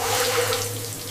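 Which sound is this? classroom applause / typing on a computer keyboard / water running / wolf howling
water running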